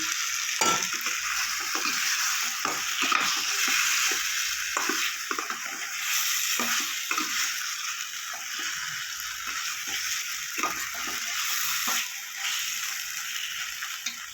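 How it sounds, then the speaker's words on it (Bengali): Eggs fry in spinach paste in a pan with a steady, close hiss of sizzling oil, broken by frequent scraping taps of stirring. "এবার ডিমগুলো দিয়ে দেব।"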